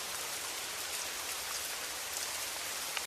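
Heavy rain falling steadily, a dense, even hiss of drops striking surfaces that fills the whole stretch and cuts off abruptly at the end.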